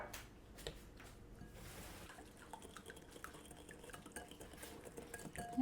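Lemon juice and sugar are whisked in a bowl, giving quiet, repeated scraping and clinking against the bowl with faint liquid sloshing, close by and soft, with no talking.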